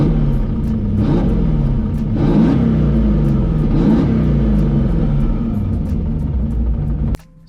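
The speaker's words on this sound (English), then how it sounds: "I'm going to try and rev it and not go crazy with rate of change" A car engine on Holley EFI is blipped through a few loud, close revs that swell and fall, rumbling between them, before cutting off abruptly near the end.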